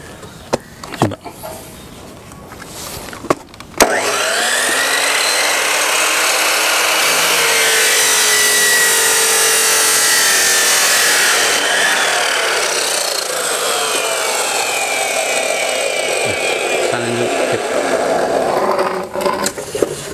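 A power cutting wheel slices through 4-inch PVC pipe clamped against a steel angle, a few handling knocks first, then a loud steady grinding whine that holds for about fifteen seconds before winding down with faint rattles.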